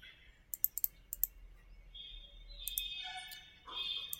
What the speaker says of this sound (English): like I'm clicking the left button